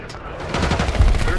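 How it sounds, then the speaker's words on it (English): Gunfire crackles in a military shooting video game with a Delta Force squad in desert dunes. A brief, dense rattle of distant shots rises into louder bursts, with indistinct battle noise around it. "We've got gunfire to the right."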